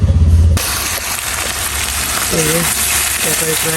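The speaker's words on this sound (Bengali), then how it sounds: "তেলটা দিয়ে দিলাম আমি, জিরা ফোড়ন দিয়ে রান্না করবো" Cumin seeds hit hot oil in a wok and crackle into a loud, continuous sizzle that starts abruptly after a short moment and holds steady, with faint voices in the background.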